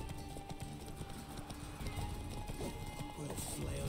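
Horse hooves clip-clopping in The Witcher 3 video game, a steady galloping patter running the whole time under game sounds and a speaking voice.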